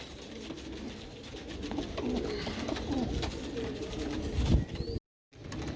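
White and black Danish tumbler pigeons in a flock coo steadily with low, overlapping throaty calls and soft rustling nearby, broken once by a brief silence near the end.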